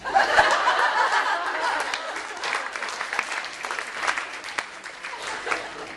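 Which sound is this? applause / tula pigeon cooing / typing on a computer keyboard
applause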